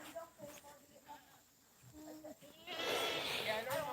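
A goat gives a brief, quiet bleat amid low background noise, partly under a person speaking nearby, followed by a burst of rustling hiss.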